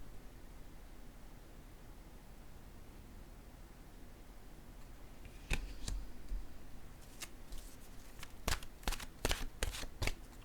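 Oracle cards shuffled by hand, starting after a quiet stretch with a few sharp riffles, then quick bursts of crisp slapping and rustling toward the end, close and fairly soft.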